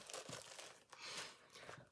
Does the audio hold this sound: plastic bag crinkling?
yes